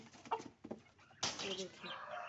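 Aseel chickens, roosters and hens kept in cages, cluck softly in short bursts, followed by a sudden rustling flurry, with someone talking nearby.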